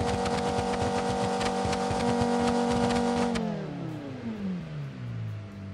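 A car engine in the Automation game revs hard and steadily for about three seconds, then the pitch glides down as it settles back toward idle, loud and with no voices over it.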